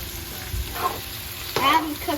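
Chopped sayote hits a hot pan seasoned with fish sauce, giving a couple of bursts of crackling sizzle and stirring, close and moderately quiet.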